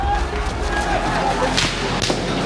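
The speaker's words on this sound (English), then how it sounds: "we hear 7 gunshots and see Yogendra bleeding to death" A few sharp, cracking gunshots ring out over dense, noisy background commotion near Parliament in Nepal, with voices mixed into the din.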